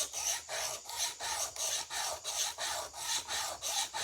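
A Sanrenmu knife is hand-sharpened on Shapton ceramic stones, with steady, even back-and-forth grinding strokes, about two per second, close and clear with no voices.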